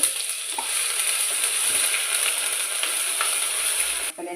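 Ginger and garlic sizzle steadily in hot oil in a frying pan for a chicken curry, a loud continuous hiss with a few faint stirring scrapes, no talking, ending in a brief pause.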